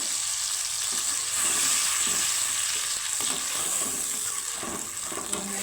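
Spices frying in oil in a pan with a fennel-flavoured katla fish curry, a steady close sizzle broken by scraping, stirring strokes of a utensil.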